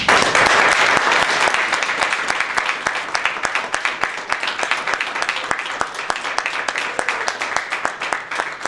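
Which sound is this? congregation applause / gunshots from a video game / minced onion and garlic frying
congregation applause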